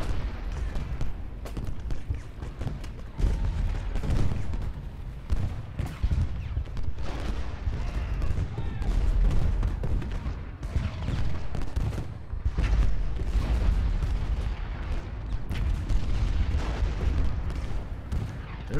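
Cannon artillery and rifle volleys from a Gettysburg Civil War battle in the strategy game Ultimate General Gettysburg, a steady rumble of booms and crackling musketry, loud and continuous with no talk.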